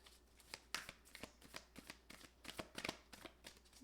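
Tarot cards shuffled by hand during a reading, a quick series of crisp riffling and slapping bursts with uneven rhythm, close and fairly quiet, with no talk over them.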